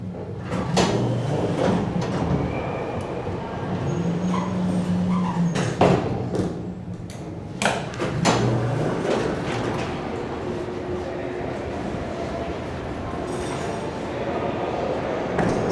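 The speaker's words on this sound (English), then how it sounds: "here's a door sound sample for those of you looking" ThyssenKrupp traction elevator doors in the 18 York PwC Tower high-rise slide open and shut, giving several sharp knocks and rumbling slides over a steady cabin hum, with some faint background chatter.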